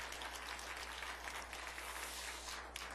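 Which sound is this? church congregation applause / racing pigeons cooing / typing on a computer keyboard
church congregation applause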